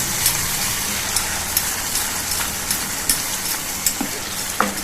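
Tinda curry with green chilli, roasted cumin powder and Kashmiri chilli sizzles and crackles in a hot pan, a steady close frying hiss broken by light scraping taps from stirring, without any voice.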